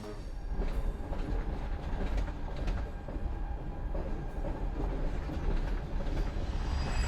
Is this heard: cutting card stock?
no